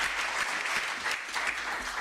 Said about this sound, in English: Can we please give a warm UNISA round of applause to our keynote address